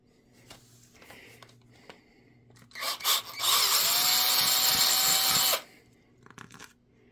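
Power drill enlarging a potentiometer hole in a guitar body, a few short bites followed by a sustained loud grinding whine for about two seconds, close up.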